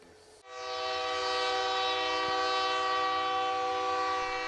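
A Missouri & Northern Arkansas Railroad freight train on the Clinton branch sounds its horn close by, a loud, steady multi-tone blast that starts abruptly and holds for several seconds.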